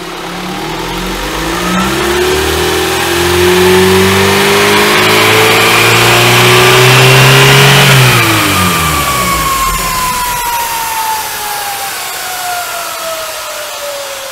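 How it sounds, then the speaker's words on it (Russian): A Lada Largus with the 11189 engine and a manual gearbox revs up steadily, holds high revs for several seconds, then winds down, close and loud with no speech. "Раскручиваем мотор"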